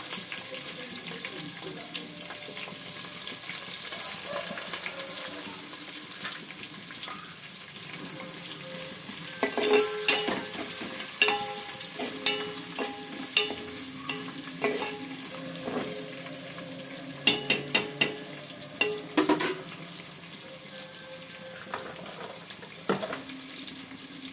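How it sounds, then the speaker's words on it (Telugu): Sliced onions frying in curry oil, a continuous soft sizzle under scattered sharp clinks and scrapes of a utensil against the pan, growing busier toward the end. "ఆ ఆనియన్స్ అయితే నేను కర్రీ ఆయిల్లో వేసేస్తున్నా"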